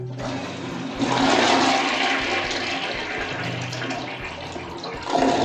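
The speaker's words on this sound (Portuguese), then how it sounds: "dar descarga" Newly installed side-outlet toilet flushes loudly and close, a rushing surge of water that churns for several seconds before the tank starts refilling.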